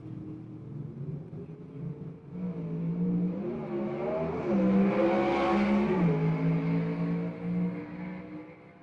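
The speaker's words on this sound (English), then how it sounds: "We're just going to sit back and listen to this sweet-sounding machine go through the gears." A gasser drag race car at a dragway accelerates through the gears, its engine note climbing, dropping at each shift and climbing again as it roars past from a distance and fades.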